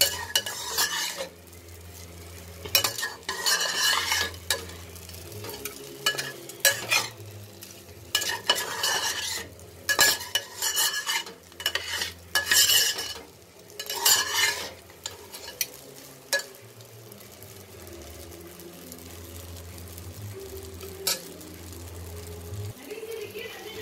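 Egg pasta simmering in a pan is stirred with a utensil, giving repeated scraping and clinking strokes over a soft sizzle, with loud bursts in the middle and quieter stirring toward the end.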